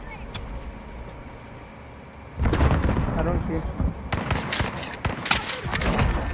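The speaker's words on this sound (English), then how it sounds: "Grenade out!" A grenade goes off in Call of Duty Warzone with a sudden loud, broad blast partway through. Heavy rumbling follows, with further sharp bangs and gunfire cracks, while players' voices talk over the action.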